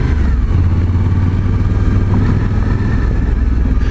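A 2020 Suzuki V-Strom 1050 motorcycle engine while riding, a steady, loud, close drone with a low throb and wind noise, no speech.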